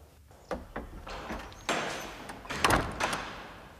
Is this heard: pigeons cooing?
no